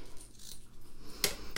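Scissors snipping red solid cotton ribbon, one crisp close cut near the end of a quiet stretch, with a faint second snip just after.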